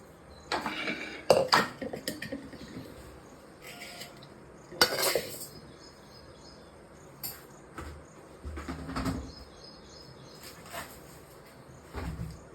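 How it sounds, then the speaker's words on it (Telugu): Pots and utensils clink in a home kitchen as rice goes into a pressure cooker: a scattering of separate metallic clinks and knocks, close and fairly loud, with quiet gaps between them and no talking. "ఇప్పుడైతే నేను ఫస్ట్ రైస్ పెడతా ప్రెషర్ కుక్కర్."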